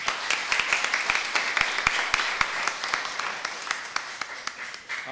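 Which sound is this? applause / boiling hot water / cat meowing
applause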